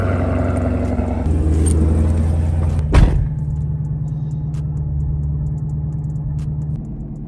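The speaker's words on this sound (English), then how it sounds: "I think this is a cold start, but it's hot outside, so like this is a lukewarm start" A 2016 Chevrolet Camaro 2SS V8 cold-starts up close: a brief crank, then a sharp loud catch and flare before the engine settles into a steady, deep rumbling idle.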